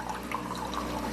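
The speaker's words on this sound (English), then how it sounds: "It's running lukewarm water through there, not hot." A newly unboxed coffee machine runs lukewarm rather than hot water through its spout, giving a steady, close trickle of flowing liquid with no voices.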